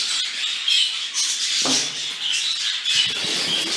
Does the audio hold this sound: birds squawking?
yes